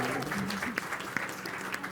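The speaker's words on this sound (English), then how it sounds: "give me another round of applause" Audience applause for the next presenter at a live pitch event, steady clapping through the whole stretch with some cheering and voices mixed in.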